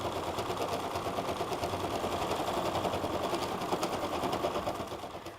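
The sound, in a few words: embroidery machine stitching freestanding lace jewelry design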